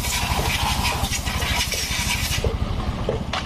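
A Yamaha Mio M3 motorbike engine runs with a rough, rapid idle, steady and close, then its firing thins out toward the end as it is switched off.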